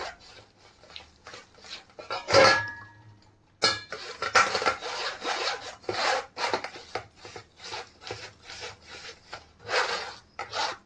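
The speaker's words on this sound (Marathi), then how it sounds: "बघा पुरण किती छान होत आहे चाळणीने" Rhythmic rasping and rubbing as thick cooked lentil puran filling for puran poli is pressed and scraped through a metal sieve, repeated strokes close up, with a brief clatter partway through.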